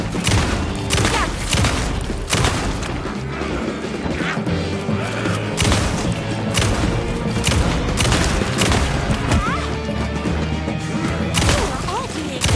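Heavy gunfire and crashing impacts from the horror game Alan Wake 2 fill the whole stretch, dense repeated bangs and booms layered over a busy game soundscape with some voice mixed in.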